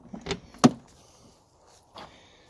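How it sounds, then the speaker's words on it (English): A big rear door on a supercharged Jaguar Vanden Plas project car is pulled open, giving one sharp latch clunk followed by a softer thud, close and alone. "Open up this door."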